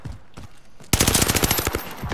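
Rapid automatic gunfire in Call of Duty Warzone, a fast burst of close, loud shots that starts after a brief quieter moment and keeps up in a dense, rhythmic stream.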